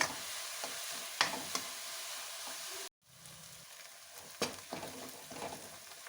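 Chunky-cut onions fry in a pan, sizzling softly at low level while a spoon stirs and scrapes now and then, with a brief dropout in the middle before the gentle frying hiss and stirring clatter resume.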